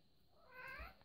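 A domestic cat gives one faint, short meow in the background of a quiet room, brief and soft, with no talk over it.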